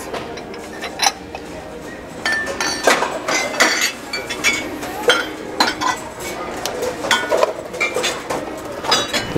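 Ceramic teacups and dishes clink and knock as they are handled on thrift store shelves, with a quick irregular series of close, bright taps and rattles over faint store background.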